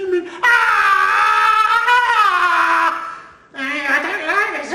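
A puppeteer's voice imitates a screaming baby in a Punch and Judy show: two loud, wavering wails close to the listener, the first long and sliding downward, the second starting after a brief break.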